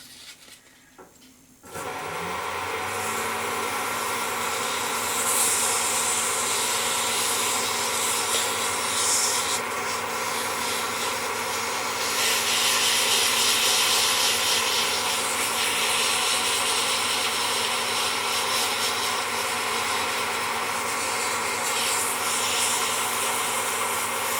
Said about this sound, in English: So this will be the very first time that I've ever done any wet sanding.